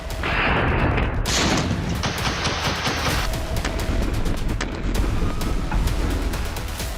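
Tanks and artillery cannons fire near the Pakistan–Afghanistan border, producing a dense, continuous barrage of loud booms and overlapping blasts that rumble without pause throughout.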